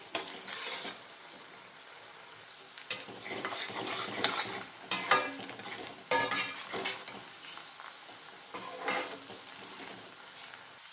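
Spicy chicken pieces frying with salt in a pan, a soft continuous sizzle punctuated by bursts of vigorous stirring and scraping that swell and fade.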